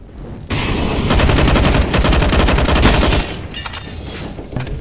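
Auto-sniper rifle gunfire in the video game CS:GO, a loud, dense burst of rapid shots and booming reports that runs continuously for several seconds before tapering off.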